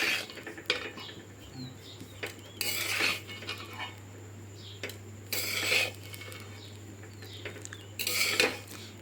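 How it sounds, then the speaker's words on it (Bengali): A spoon stirs thick mustard paste in a wok over a medium gas flame, with repeated bursts of scraping and metallic clatter against the pan and a steady low hum between the strokes. "ওই সর্ষের যে পেস্টটা বানিয়েছি ওটা কড়াইয়ের মধ্যে দিয়ে অনবরত নাড়তে থাকবো।"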